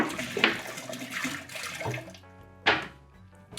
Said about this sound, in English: So let's go ahead and dump some water.